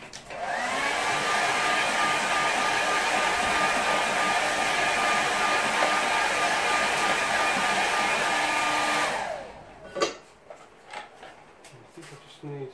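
A hair dryer blows steadily on a painting of a river scene for about nine seconds, loud and close, with a constant whine, then cuts off, leaving a few faint knocks and handling sounds.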